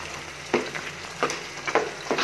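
Taro leaf curry with hilsa, freshly seasoned with cumin, stirred in a pan: a soft steady sizzle broken by four or five distinct scraping stirs, close and alone.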